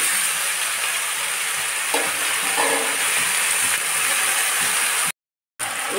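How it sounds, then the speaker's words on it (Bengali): Ginger and cumin seeds fry in hot oil with dried red chilli and spices, giving a loud, continuous close sizzle with faint stirring. The sound cuts out briefly near the end. "আদা জিরেটা ভাজা হয়ে গেছে"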